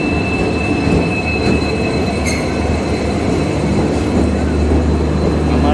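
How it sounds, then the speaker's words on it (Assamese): The Rajdhani Express rumbles into a station with a loud, continuous roar of wheels and carriages, a brief high squeal of braking wheels over the heavy rolling noise. "আহি পালেহি ট্ৰেইনখন, ৰাজধানী এক্সপ্ৰেছ"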